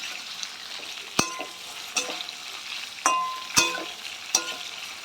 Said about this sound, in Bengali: ঝিঙেটা আমি ভালো করে ভেজে নেব।